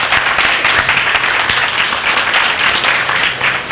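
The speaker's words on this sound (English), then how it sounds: "Give him a big round of applause." An audience at a school concert claps loudly and steadily, a dense, sustained wash of many hands lasting the whole stretch with no talking.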